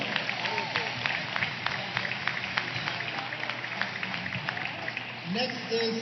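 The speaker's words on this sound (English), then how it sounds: "Let's have a round of applause for Dr. Michael Glasgow." Applause from the audience at a university athletics honors ceremony, a steady crowd clapping texture that fills the hall and persists throughout, with a brief murmur of voices near the end.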